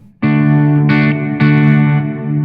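An electric guitar through an EarthQuaker Devices Dispatch Master delay and reverb pedal, reverb set halfway, rings out sustained, distorted chords with a thick, echoing wash, struck three times in succession and left to ring.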